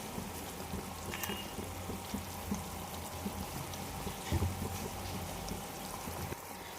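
Food sizzles and crackles steadily in a pan, close and moderately loud, right after raw mustard oil is poured over it at the end of cooking, with no talking.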